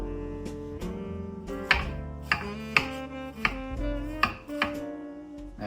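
A knife chops vegetables for gumbo on a cutting board, about eight or nine sharp, uneven chops over steady background music.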